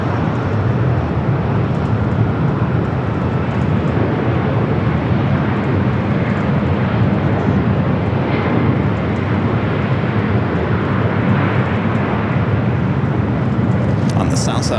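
Jet engines roar as a Delta airliner takes off from runway 24 left at LAX, a loud sustained broadband rumble that holds steady throughout, with radio voices speaking over it.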